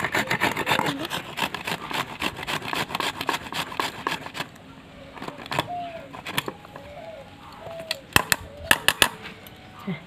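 Green papaya rubbed against a grater in a village kitchen, a close run of rapid rasping scrapes in steady rhythm that turns into sparser strokes with small clicks.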